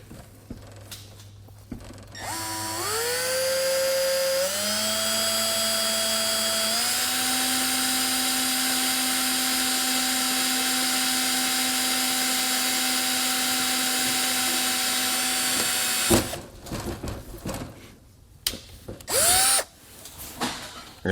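A power drill whines steadily for about fifteen seconds drilling holes in an RV screen door, pitch rising as it spins up, loud and close, then stops and brief clatter follows.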